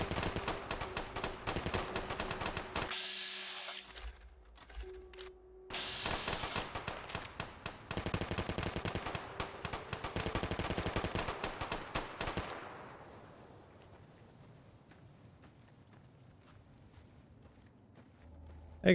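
Gunfire in the Fallout video game, long stretches of rapid, rattling automatic shots broken by brief pauses, then giving way to quieter ambient sound toward the end.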